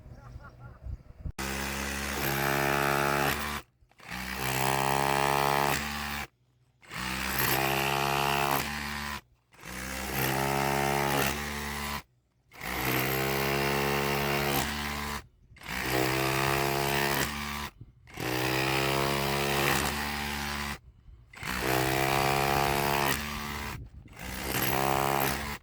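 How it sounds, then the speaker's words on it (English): A loud SDS drill grinds hard, chipping at a granite slab in long bursts, about eight of them, each lasting a couple of seconds with short pauses between. "So all I can do is chip away using the SDS drill"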